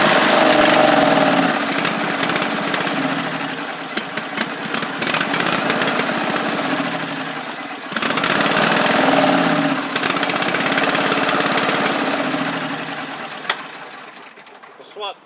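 A John Deere garden tractor engine runs rough, a steady loud mechanical drone that sags and surges unevenly, with a brief drop near the middle before it picks back up, then fades toward the end under occasional talk.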